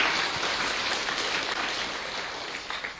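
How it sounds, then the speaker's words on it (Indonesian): A church congregation claps together in a steady, dense wash of applause that tapers a little toward the end, with no speech on top. "Berikan tepuk tangan ya mereka."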